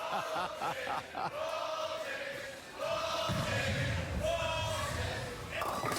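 A crowd at the PBA bowling playoffs quarterfinals chants in unison, rhythmic repeated shouts rising from a noisy arena, with a heavy low rumble swelling midway.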